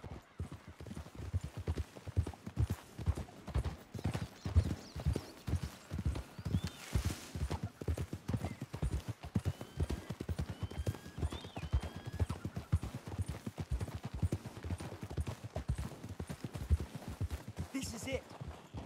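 Horse hooves clip-clop at a steady walking rhythm in Red Dead Redemption 2, close and distinct, with a brief whinny partway through and a voice speaking intermittently over the hoofbeats.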